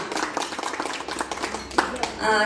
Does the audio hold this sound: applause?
yes